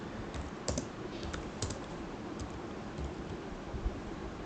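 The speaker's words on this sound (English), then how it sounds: "I am manual typing" Someone types by hand on a computer keyboard, tapping out key presses one at a time in an uneven stream of soft clicks with a few sharper strokes, close and alone without talk.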